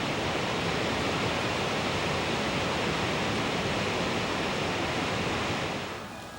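Lower Cullasaja Falls on the Cullasaja River: a steady, broad roar of falling water that stays constant and fills the scene, then eases slightly at the end.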